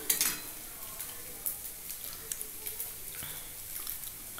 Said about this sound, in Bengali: আলু বেগুনের ঝোলটা একটু ফুটে আসুক